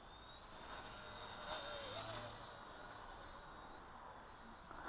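Heli 101 small RC helicopter from First Step RC climbing at full throttle, a steady high-pitched motor whine with a thin sustained tone, faint and a little distant, swelling slightly then holding level, no talk.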